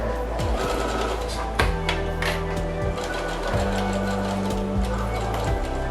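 A domestic sewing machine with a standard presser foot stitches fabric around a curve, running in steady bursts of rapid mechanical chatter broken by brief pauses as the work is turned.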